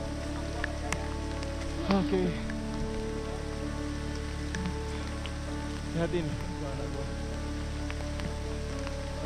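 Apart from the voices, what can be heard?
light drizzle falling in a forest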